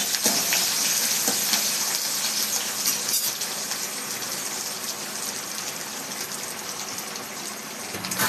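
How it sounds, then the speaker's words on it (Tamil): Onion, curry leaves and grated coconut frying in oil until golden for a Nagercoil-style aviyal, a dense steady sizzling hiss that holds close and loud throughout with no talk. "வெங்காயம், கருவேப்பிலை போடணும். கொஞ்சம் காய்ப்பொடி போட்டு பொன்னிறமாக வறுக்கணும்."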